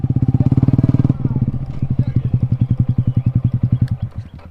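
Yamaha MT15 or R15 V4 motorcycle fitted with an Akrapovic exhaust, heard up close as a loud, rapid pulsing rev that settles into a steady, throbbing idle-like thump with distinct beats.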